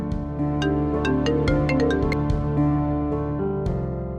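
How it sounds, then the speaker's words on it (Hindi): A melodic electronic phone ringtone plays loudly and continuously, with a rhythmic synth melody over a steady backing tone. "क्यों फोन क्यों नहीं उठा रहे हैं आप?"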